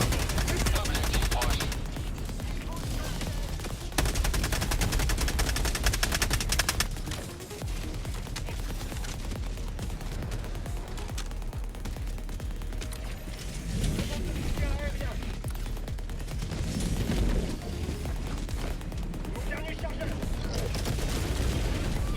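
Dense gunfire and bursts of shooting from the Helldivers II video game run almost without pause, loud and busy, mixed with other battle noise. A voice speaks intermittently over the shooting.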